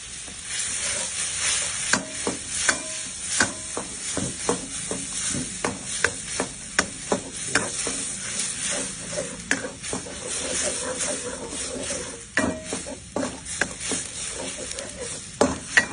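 Red curry paste stir-fried with coconut milk in a pan makes a steady sizzle and hiss, broken by frequent scraping and knocking of a spatula. A voice talks now and then over the cooking.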